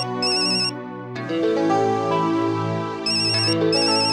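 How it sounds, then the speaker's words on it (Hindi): A telephone ringtone plays a bright repeating melody, loud and clear indoors in a household scene, with short bursts of higher chiming tones at the start and end over the sustained tune, and no one speaking over it. "किसका फोन है? टप्पू का फोन है।"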